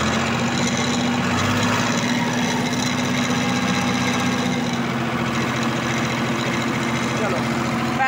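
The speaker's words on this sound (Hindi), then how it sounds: "3 सिलेंडर ट्रैक्टर है, DCM गियरबॉक्स इंजन के साथ में, डुअल क्लच हो गया जी।" Farmtrac 65 EPI three-cylinder diesel tractor with a DCM gearbox and dual clutch, its engine running close and loud at a steady throb with a constant low hum throughout, and people talking over it.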